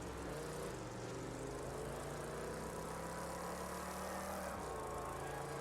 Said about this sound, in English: Doesn't sound to have a lot of revs in that engine.